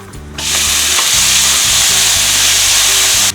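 Finely chopped onion frying in a pan with cinnamon, cloves, a piece of mace and star anise for a white kurma, a loud, steady close sizzle starting abruptly and holding without pause.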